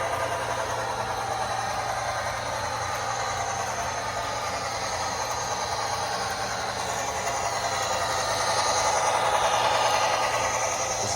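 A Bachmann HO scale model train engine runs continuously with a steady, even mechanical hum and whir, fairly quiet and unbroken, with no talking.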